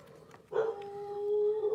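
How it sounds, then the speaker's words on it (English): A dog named Sumo gives a drawn-out, steady howl-like bark that starts after a brief quiet moment and holds on near the microphone, with no talking over it. "Sumo's barking"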